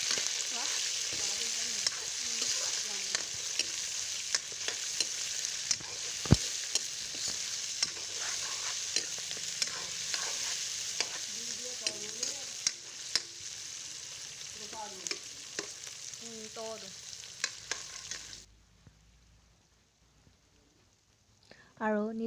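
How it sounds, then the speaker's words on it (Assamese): Chicken frying in a pan is stirred, giving a steady sizzle broken by repeated scraping strokes for about eighteen seconds. Near the end it drops to near silence and then briefly rises again. No voices. "এতিয়া চিকেনখিনি দি দিছোঁ আৰু অলপ টাইমৰ কাৰণে লৰাই এনেকৈ ভাজিম"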